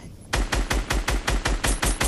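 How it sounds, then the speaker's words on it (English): Rapid automatic gunfire from a video game, about ten evenly spaced loud bursts in quick rhythm after a brief quiet start, close and dominant with no talking. "I'm gonna keep shooting him"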